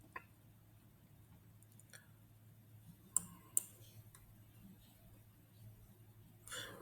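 Soft, close computer mouse clicks, a couple of sharp isolated taps over a quiet room hum, no talking.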